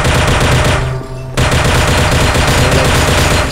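Rapid, continuous automatic gunfire rattles loudly in the tower-defense game dys_tower as enemies shoot at a white target, with a brief dip in the barrage before the rapid firing resumes at full strength.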